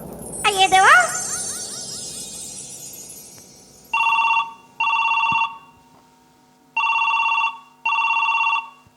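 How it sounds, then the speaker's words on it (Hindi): A mobile phone call rings back four times after a number is dialed, each ring a loud steady electronic tone with short gaps between them. A brief vocal sound comes before the rings. "तय मोबाइल में नंबर डायल करके लाओ ताकि मोर राधा बेटी ला मैं ही खुद फोन से बात करके बुला लेता हूँ"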